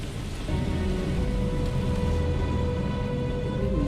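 Steady rain falls in the video game Starfield, a dense, even hiss that holds at constant loudness over a low, sustained ambient drone, with no voices.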